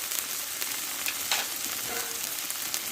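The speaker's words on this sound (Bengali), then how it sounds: "মশলাটা ভালো করে একটু কষে নেবো দেখো টমেটোটা আমি দিয়ে দেবো এতে আর দেবো হলুদ গুঁড়ো" A paste of onion, ginger and green chilli fries in oil with tomato and turmeric, giving a dense, even hiss of sizzling with occasional soft stirring touches and no voices.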